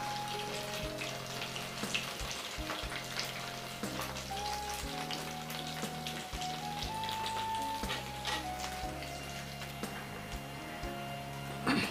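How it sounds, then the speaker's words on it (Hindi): Soybean chunks deep fry in a pan of oil, a steady bubbling sizzle with scattered crackles running continuously at close range, while a low musical tone plays underneath and nobody speaks. "आप देख सकते हैं इसी तरीके से बिल्कुल आप डीप फ्राई करें"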